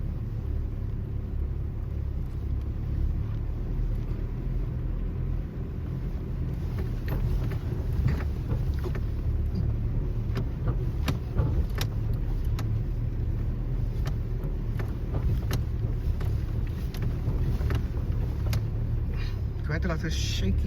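A 4x4 vehicle grinds over Namibian sand dunes at Sossusvlei in low-range second gear, its engine a constant loud rumble mixed with wind buffeting and rattling knocks from the shaking cabin.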